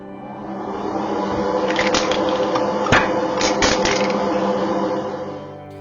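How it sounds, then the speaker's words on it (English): A spray booth extractor fan roars steadily and loudly nearby during priming of 1/12 scale Tamiya Kawasaki Ninja ZX-12R model parts, with brief clicks and rattles over the constant whoosh, fading out at the end. "Man, that extractor is loud."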